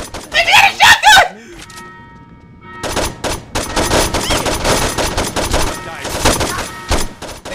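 Shotgun blasts and bursts of rapid gunfire from the Saints Row 2 video game ring out loud and close, following a brief shout, with dense volleys of shots continuing through the rest.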